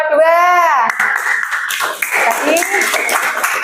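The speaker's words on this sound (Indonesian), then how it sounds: "Tepuk tangan untuk kelompok 2." Classroom applause for a student group follows a short voiced call: children clap in a ragged, lively burst, fairly close and filling the rest of the moment.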